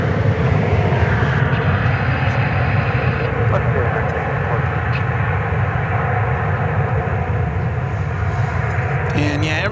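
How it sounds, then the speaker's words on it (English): An Airbus A321 airliner departs DFW Airport with a loud, sustained engine roar that stays steady and powerful through the stretch, while someone talks over it. "that Airbus A321."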